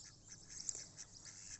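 Indian runner ducks in a garden give soft, faint quacking calls that repeat in a loose rhythm over a steady hiss of background noise, with no one speaking.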